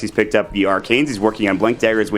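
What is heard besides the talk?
No everyday noise stands out behind the speech.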